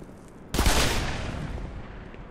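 Gunfire from an enemy soldier in Black Mesa, a sudden loud burst of shots followed by a long decaying rumble and echo, with no talking over it.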